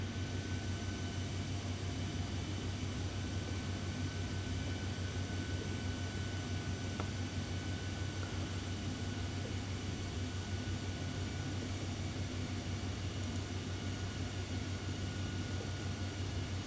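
Steady, droning engine roar of an A320neo airliner climbing after takeoff in Flight Simulator 2020, a constant broadband hum heard alone without change or talk.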